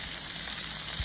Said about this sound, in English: You can actually see that the butter is hot, activating on the surface of that fish